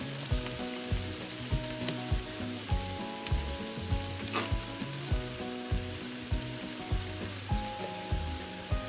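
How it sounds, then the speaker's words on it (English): Leftover barbecue pork, drained canned corn and barbecue sauce simmering in a pan over medium heat, a steady soft sizzle and bubble with small regular pops running throughout. "we're just going to let this sit here and simmer together on a medium heat"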